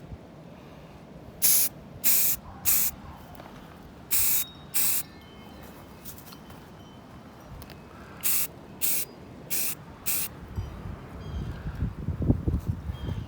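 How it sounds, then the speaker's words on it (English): An aerosol spray paint can hisses onto a Mandalorian helmet outdoors in wind, laying primer in a series of short bursts, first in groups of two or three, then a run of four, with wind rumble rising near the end. "The force of the spray paint coming out"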